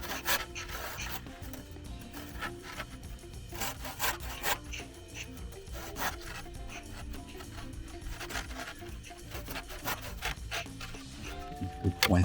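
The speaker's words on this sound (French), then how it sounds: "Les menuisiers ont l'habitude de mettre de l'huile sur la scie" Carpenter's hand saw working through wood, the blade oiled, giving irregular rasping push-pull strokes that sometimes catch and bind, close up with faint talk in the background.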